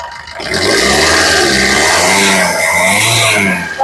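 A 2016 Maruti Vitara Brezza ZDI diesel engine revs under the accelerator, a loud close hum swelling and sustained for a few seconds with wavering pitch before easing off.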